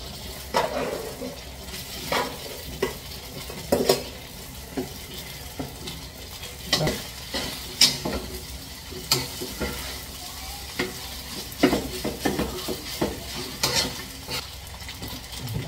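Rice stir-fried in a pan for sangag garlic fried rice, a continuous sizzle broken by repeated scraping and clacking strokes of a utensil against the pan, close and fairly loud.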